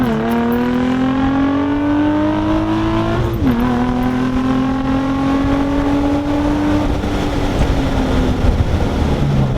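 A Nissan G35 fitted with a big bore throttle body accelerates hard in first gear, its engine note climbing steadily, dipping briefly at a shift-like break, then rising again, loud and close.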